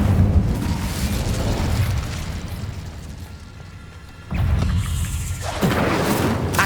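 An Incendio fire spell explodes in the Hogwarts Legacy video game with a loud, close, rumbling burst that fades, then a second roaring blast erupts and sustains to the end.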